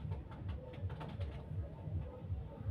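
Two pigeons coo softly and close by in a low, rhythmic series of repeated throaty calls, fairly faint, with nothing else competing.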